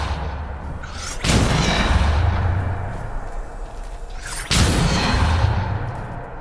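Spell blasts cast in Hogwarts Legacy, two loud sudden whooshing bursts with booming impacts, each trailing into a rumbling decay, no talk over them.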